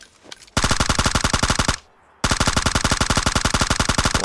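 Automatic gunfire at a vehicle in PUBG Mobile, two loud, rapid sustained bursts separated by a short pause, each shot crisp and close.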